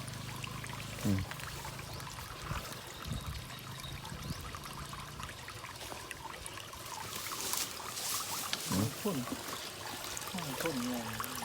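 Water pouring through a drainage pipe at the Huai Hin Lek Fai stream, a steady gushing flow heard continuously, with someone talking over it at times.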